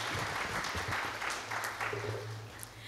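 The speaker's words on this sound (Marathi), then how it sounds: "त्यांच्यासाठी पण आपण टाळ्या वाजूया" Audience clapping at a book launch ceremony, a steady patter of many hands filling the room over a low background hum, continuing throughout.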